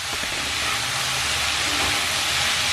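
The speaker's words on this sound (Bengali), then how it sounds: "এই সব কিছু ভাজা করে নেব" Snake gourd with slit green chillies fries in a pan over medium to high flame, giving a steady, dense sizzling hiss throughout with no voices.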